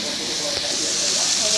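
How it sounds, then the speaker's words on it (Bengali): Spices such as black cumin and onion sizzle in hot oil during sautéing, a steady bright hiss that rises slightly toward the end, with a faint brief knock midway and no talk. "এই যে মশলা কষাচ্ছি"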